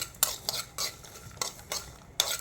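Sesame seeds and spices dry roasting in a pan for a restaurant-style drumstick curry, with five or six distinct scraping stir strokes at an even rhythm, close and clear, no voices.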